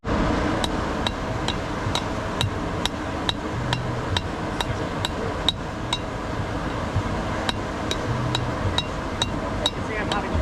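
Steady hammer blows on an iron spearhead at the anvil, sharp metallic strikes ringing out in an even rhythm about twice a second, close and loud over a low workshop background.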